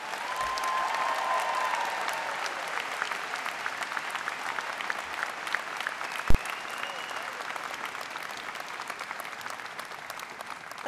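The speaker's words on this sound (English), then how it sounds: "Let's give him another round of applause." A graduation ceremony crowd applauds in a large hall, a broad wash of clapping that stays even throughout, with a single sharp knock partway and faint voices beneath.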